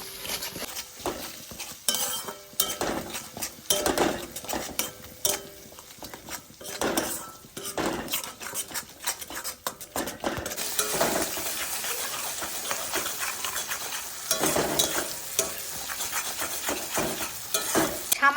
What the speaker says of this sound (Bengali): এবার আমি এটা ভালোভাবে কষাতে থাকবো সমস্ত কিছু দিয়ে